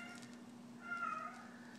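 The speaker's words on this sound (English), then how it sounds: "she's going to sit out here and torture me to death with that dang meowing" A cat meows at a closed door: one short, fairly faint meow lasting about half a second, heard over a steady low background hum.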